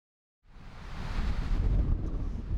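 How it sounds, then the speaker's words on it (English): Strong, steady wind on a snowy mountain top roars and buffets the microphone after a brief silence, a broad rushing noise that builds and holds loud. "it's windy up here on the top of this mountain"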